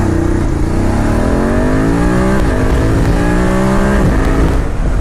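A BMW F850GS motorcycle in dynamic mode accelerating hard from standstill in a 0 to 100 test, its engine revving up loudly through several gears with clear drops in pitch at each shift, close and continuous.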